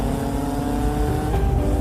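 A motorbike speeds away in a cartoon chase, its engine a loud continuous revving roar that stays close and fills the whole short moment.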